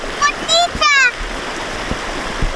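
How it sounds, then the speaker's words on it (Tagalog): A river at a Laguna campsite gives a steady, soft rush of flowing water, heard under a person briefly speaking near the start. "Ayan yung ilog hanggang dito."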